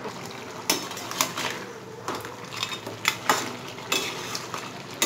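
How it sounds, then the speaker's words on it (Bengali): Crab masala being stirred in a pot with the lid lifted, a spoon scraping and knocking against the metal in several distinct strokes over a low simmering sizzle, close and clear with no talking. "মাঝে ঢাকনাটা খুলে একবার উপর নিচ করে দিলাম, নেড়ে দিলাম"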